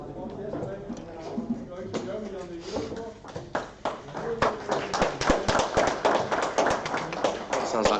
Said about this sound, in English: Sounds like they're applauding me.